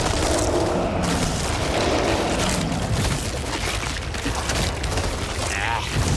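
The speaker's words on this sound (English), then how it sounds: "Firecrackers here." Firecrackers burst in the co-op zombie shooter game Back 4 Blood, a dense run of crackling pops and booms over loud continuous game noise, with a voice talking at times.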